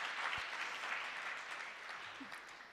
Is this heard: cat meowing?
no